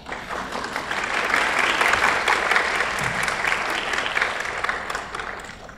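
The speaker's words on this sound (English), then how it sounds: "Is that applause or the good old indicator that we are, it's time?" Audience applause at a talk held at AIIMS Nagpur, a sustained wash of many hands clapping that swells and holds steadily, moderately loud and without talk.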